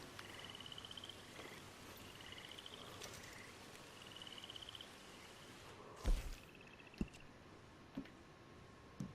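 A toad calls in Red Dead Redemption 2, giving repeated high trills at a steady pace over a faint night ambience, with a few sharp clicks and a louder knock partway through.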